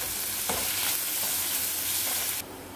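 Onions frying in a pan for a peanut and paneer curry, stirred until lightly browned: a steady close sizzle with a few soft scrapes of the spoon, cutting off abruptly near the end.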